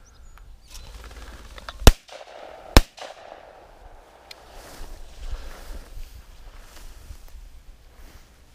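Two sharp gunshots fired outdoors during bird dog training, spaced about a second apart, stand out over faint field ambience and rustling.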